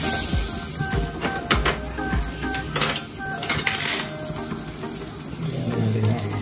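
Butter sizzles in a pan before garlic and onion go in to sauté, a steady hiss broken by sharp clanks and knocks of utensils against cookware. Light water sounds run in the background and no one speaks.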